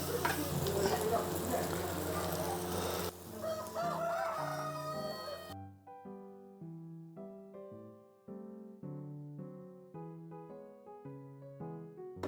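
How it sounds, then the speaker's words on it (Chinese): A farmhouse stir-fry with green pepper, oyster sauce and cooking wine has a pre-fried egg tossed in a wok, giving loud sizzling and scraping for about five seconds before music takes over. "最后放入这个我们前面煎好的鸡蛋，我们简单翻炒一下就可以出锅了。"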